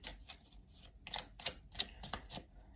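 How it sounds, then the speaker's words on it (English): A box deck of cards being shuffled for a card reading: quick, crisp rustling bursts in an uneven rhythm, close and fairly quiet, with no talking. "I'm going to wrap up this reading with a deck big enough to shuffle from this box of cards that I have"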